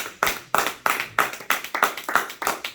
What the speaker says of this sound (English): Let's give Sean a round of applause